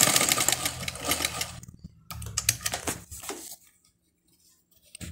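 An old black Singer sewing machine in good condition runs in quick, rattling bursts of stitching, stopping briefly and restarting before falling quiet, heard close up with no voices.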